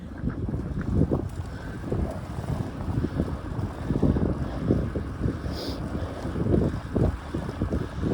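Continuous wind buffeting a microphone outdoors, a heavy low rumble with gusting surges throughout, loud and close with no voices.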